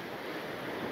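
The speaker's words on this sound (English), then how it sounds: "on normal days, it is a little bit wavy, a lot of waves" Ocean waves washing continuously along a beach on Aruba, a steady broadband surf roar with some wind noise across the short stretch and no voices.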